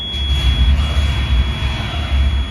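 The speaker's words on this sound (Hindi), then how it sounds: "फाइनली बीप मेरा आ गया।" A multimeter testing the charging IC on a Dell Inspiron 15 3511 laptop motherboard (LA-L243P) gives a thin, steady continuity beep that holds throughout over a loud low hum and rumble.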